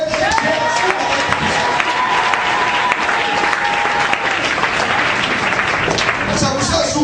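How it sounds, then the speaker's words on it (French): A church congregation breaks into dense, steady applause with scattered cheers, a continuous loud wash of clapping that holds evenly throughout. "Est-ce que tu peux acclamer?"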